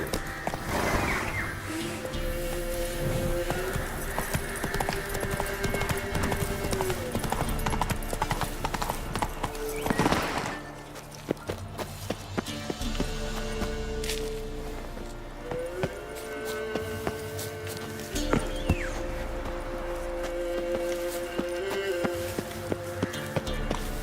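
Hooves of Roach, a horse in The Witcher 3, clip-clop steadily at a gallop across the ground, running on without pause under game music, with a brief soft spoken line.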